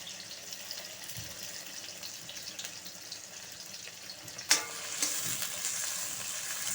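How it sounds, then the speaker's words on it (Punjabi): Sliced onions and green chilies frying in a pan for a bitter gourd peel dish, a continuous close sizzle with a sharp clink partway through and brief stirring after. "ਗੰਡੇ ਆਪਾਂ ਥੋੜੇ ਜਿਹਾ ਬਰਾਊਨ ਕਰਾਂਗੇ ਇਹਨੇ ਕਿ ਭੁੰਨਾਂਗੇ"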